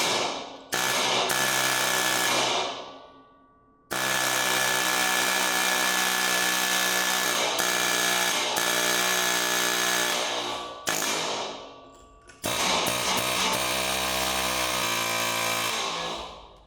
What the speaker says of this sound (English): We could try air hammer with it on the ground.